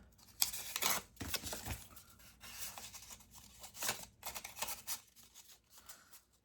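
Scissors snip through craft paper scraps in a quiet room, a scattered series of close, crisp cuts mixed with rustling and crinkling of paper between them, with no talking.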